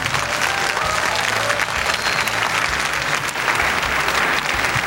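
A studio audience at a televised talent show gala applauds jury member Sergey Danelyan, loud dense clapping sustained throughout from a nearby crowd.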